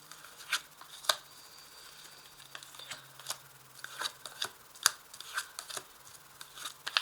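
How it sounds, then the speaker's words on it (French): Tarot cards being shuffled by hand before a spread is drawn, giving a quiet, close series of irregular riffling snaps and soft flicks with no talk. "Alors je vais tirer 5 cartes."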